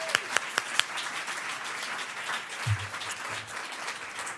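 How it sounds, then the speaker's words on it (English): An audience applauds during a speech by a US senator about the Consumer Financial Protection Bureau, a few distinct claps first, then a soft, steady wash of clapping from a crowd at moderate distance. "Can we just applaud one more time?"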